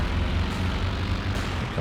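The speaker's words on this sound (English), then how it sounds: "Recon plane up in the air again." A reconnaissance plane flies overhead in the video game Company of Heroes 2. Its propeller engine drones steadily, fairly faint, over distant battlefield rumble.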